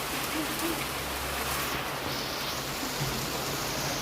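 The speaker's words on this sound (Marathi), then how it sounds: "खूप जोरात पाऊस आलेला आहे बघा" Heavy rain pours down during a windy storm at a wedding, a dense, steady hiss of drops hitting surfaces that holds even and unbroken from start to finish.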